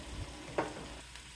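Cauliflower sautés steadily with masala in a pan, no water added, with one brief scraping clatter of stirring partway through.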